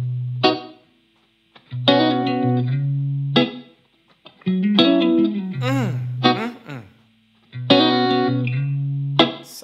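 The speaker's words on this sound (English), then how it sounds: "Doesn't this guitar sound so good?" An electric guitar played through effects, with distorted, chorus-laden chords ringing in loud bursts that sustain and decay between short gaps.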